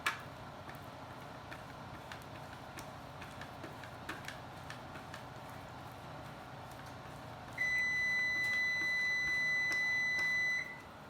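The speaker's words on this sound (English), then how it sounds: "that beeping noise is the oven that I preset to 375." A steady oven preheat beep set at 375 degrees sounds near the end, a continuous high tone pulsing briefly, over a faint ticking background in an otherwise quiet kitchen.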